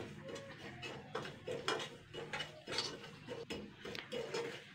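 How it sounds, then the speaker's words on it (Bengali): A spoon scrapes and knocks against a pan while a cup of semolina is stirred and dry-roasted, soft rhythmic scraping strokes repeating close by at a moderate, even pace. "এবার কিন্তু এই 1 কাপ সুজিটা একটু হালকা নেড়ে চেড়ে নেবো, এটা যেন আবার পুড়িয়ে না যায়।"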